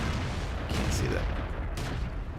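Artillery fire booms in a World of Tanks battle, deep rumbling blasts and crackling impacts rolling over a dense low background, with a couple of sharper bursts standing out.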